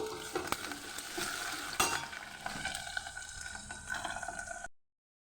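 Ivy gourd pieces deep-fry in oil with a crackling, bubbling sizzle, punctuated by a few scraping stirs and clinks of a utensil against the pan.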